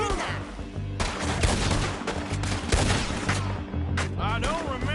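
Gunfire from Red Dead Redemption 2 rings out in a dense, continuous exchange of shots, with sharp overlapping cracks and booms over a loud backdrop, while speech is mixed in.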